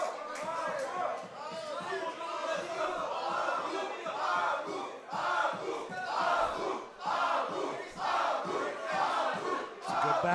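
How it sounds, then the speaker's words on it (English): A crowd at a 10th Planet grappling team duel chants in rhythmic unison, loud and sustained throughout, with surging cries and arena babble filling the space. "The crowd's chanting for Abu, but Abu's finding himself behind."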